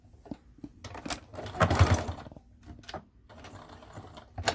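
Sewing machine stitching across a homemade fabric wallet, a burst of quick rhythmic needle whirring in the middle with softer mechanical clicks and handling before and after, close and fairly quiet.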